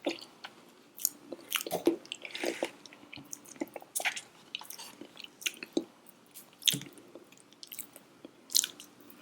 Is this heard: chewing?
yes